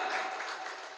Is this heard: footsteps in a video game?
no